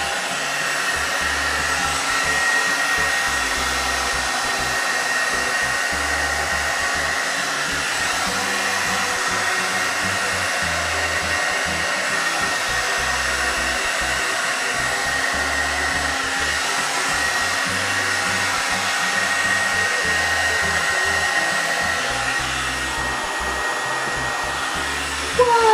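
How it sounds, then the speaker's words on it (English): A $28 dupe of the Revlon One Step Volumizer hair dryer roars steadily up close as it dries hair, a constant loud blowing whir running unbroken throughout with no talking. "It's drying my hair."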